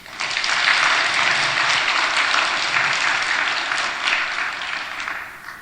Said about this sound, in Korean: 박수 한번 쳐줘요.